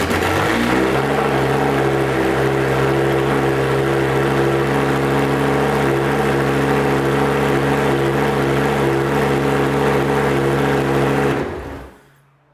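Rebuilt Lamborghini Gallardo Superleggera engine idling steadily and smoothly for about eleven seconds, a loud, even hum with strong low tones, then cutting off abruptly at the end.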